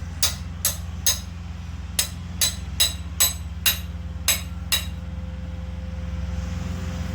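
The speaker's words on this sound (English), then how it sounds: "Got my trusty ball peen hammer, and I'm just gonna tap it through." A ball peen hammer taps a cam bearing driver tool through an L48 engine block: about eleven sharp metallic strikes in uneven pairs and runs, close, over a steady low hum, then stopping.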